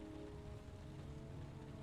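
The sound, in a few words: rain falling in Heavy Rain video game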